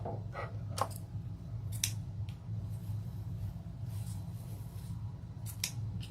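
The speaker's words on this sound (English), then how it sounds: "I'm just going to trim the little ends up here" Scissors trim the ribbon ends of a bow with several quiet, crisp snips. They come at irregular intervals over a low, steady background hum.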